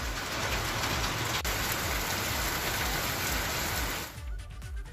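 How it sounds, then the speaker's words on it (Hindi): Rain falls steadily in hilly country, a loud, dense hiss of drops on surfaces that holds constant and then drops away abruptly near the end. "पहाड़ी क्षेत्रों में हो रही बारिश की वजह से, ओलावृष्टि की वजह से"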